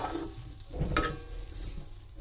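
Potatoes frying toward golden brown in a new wok, a soft sizzle under brief stirring and scraping of the pan, close and quiet.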